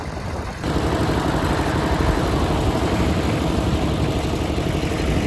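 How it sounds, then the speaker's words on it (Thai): A tractor engine chugs steadily at close range, a low rumbling drone that holds constant throughout with no voices. "นั่งรถไถไปเที่ยว"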